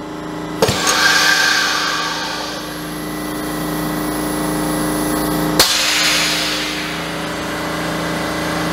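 A Morgan Press plastic injection molding machine cycles with a small mold at about 60 psi injection pressure: a sharp clunk, then a long steady pneumatic hiss and whir, and a second loud clack partway through. Close and fairly loud, with no talking.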